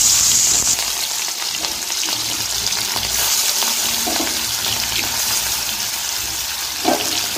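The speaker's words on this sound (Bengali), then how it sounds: "এবার মাছটা আমি হালকা করে ভেজে নেব।" Prawns fry lightly in hot oil with a loud, steady hissing sizzle throughout and a couple of brief clinks near the end, no talk.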